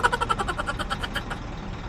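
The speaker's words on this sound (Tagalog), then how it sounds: "itong andar na sasakyan sa tabi natin, itong truck naka-andar kasi yan" Truck engine running close by on a roadside stop during a morning bike ride, a steady rumbling drone with a faint rhythmic pulsing, loud and continuous with no talk over it.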